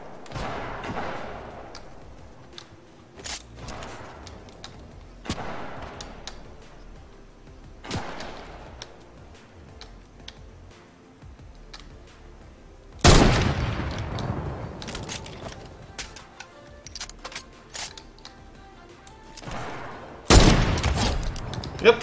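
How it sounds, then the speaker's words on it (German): Gunfire in the video game Fortnite, with scattered shots and bursts at varying distances through a long stretch, including two loud sharp blasts near the end over a constant background rumble. "hier wird ja überall geschossen"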